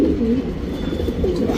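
Male Cheeni pigeon giving low, soft coos over a steady background murmur, close by and continuous through the moment.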